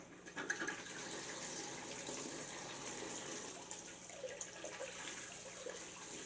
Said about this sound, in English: Now I will start the pump.